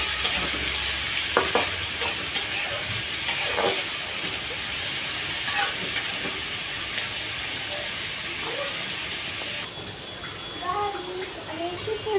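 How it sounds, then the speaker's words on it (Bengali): Chopped onions frying in soybean oil for a country chicken and potato curry, a continuous close sizzle and hiss with occasional stirring scrapes. "পেঁয়াজ কুচি দিয়ে পেঁয়াজটাকে কতক্ষণ ভেজে নেব লাল লাল করে"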